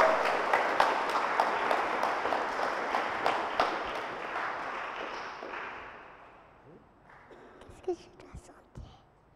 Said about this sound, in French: Alors, on va l'applaudir bien fort.